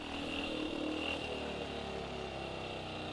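Older two-valve speedway motorcycle engine running nearby, a raw buzzing drone with a steady throb and slight revving, loud and continuous on its own.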